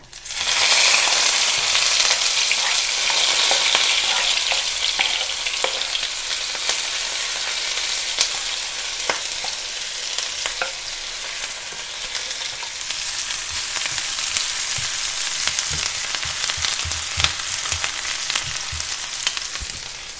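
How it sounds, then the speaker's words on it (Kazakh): Onions sizzling loudly in hot oil, a steady crackling hiss that continues throughout with occasional stirring scrapes, close by. "пиязымызды салып қуырып аламыз"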